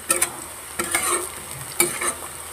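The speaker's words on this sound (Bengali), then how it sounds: "আর এদিকে তেতো করলা, উচ্ছে ভাজাটা হয়ে গেল প্রায়।" Bitter gourd slices fry in a pan, giving a soft steady sizzle with a few louder stirring scrapes and clatters near the start, middle and end.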